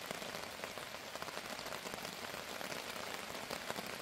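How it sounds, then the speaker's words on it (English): Steady rain patters on a taut tent fabric overhead, a dense, even drumming of drops with no voices. "a little pitter-patter started on the tent"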